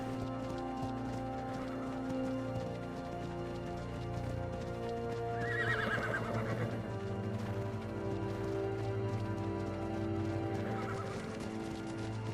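Horses in the ARK survival game whinny and neigh over a steady clip-clop of hooves running, set against a constant low game ambience with no talk.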